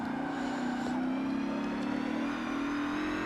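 A Ford Falcon XR8 V8 racing engine drones steadily at high revs in Forza Motorsport 7, held near full throttle throughout, with a loud, continuous mid-pitched tone and no talking.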